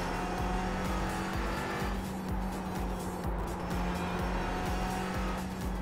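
A race car threads the S curves at Suzuka in a racing video game, engine droning steadily with rapid gear shifts and brief tire squeals throughout.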